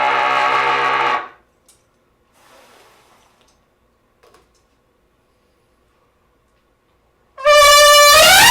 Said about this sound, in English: let me honk